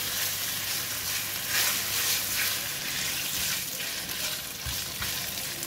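Bacon from a third batch sizzles and spits steadily in a hot pan, a continuous bright crackle with occasional stirring scrapes, close and alone with no voices.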